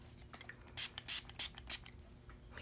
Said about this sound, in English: and then I'm going to spray it again